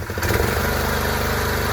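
A small engine with a freshly repaired recoil starter idles steadily and loudly up close, a smooth, even chugging that runs the whole time without any voices.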